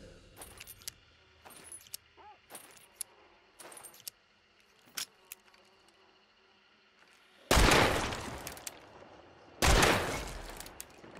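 Gun handling in the game Hunt: Showdown: a run of sharp metallic clicks and clacks spaced over several seconds, followed by two loud, booming gunshots close by.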